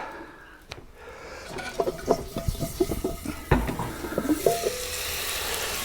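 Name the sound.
Dutch oven being taken out of a Kamado grill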